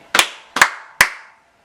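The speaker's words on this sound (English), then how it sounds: "Are we going to do our 3 claps?" Three sharp hand claps ring out in an even rhythm, each loud and close with a short echoing tail that fades after the last.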